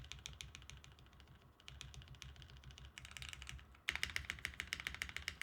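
Keys clatter on a modded mechanical keyboard in quick irregular bursts of crisp clicks and thocks, near and fairly quiet, with a louder, denser flurry of strokes toward the end and no talking.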